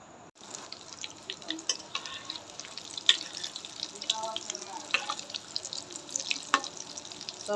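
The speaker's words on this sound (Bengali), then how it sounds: "সবগুলা লাল লাল করে ভেজে নিব।" Breadcrumb-coated egg chops frying in oil over a low gas flame, a soft steady sizzle with small pops and crackles, fairly quiet and close.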